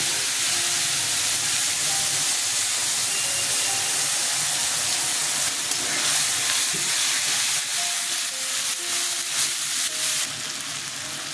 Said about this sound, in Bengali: কাঁচা লঙ্কা ফোড়নে দিলাম, কালো জিরে দিলাম, মশলা বাটাটা ছেড়ে দিলাম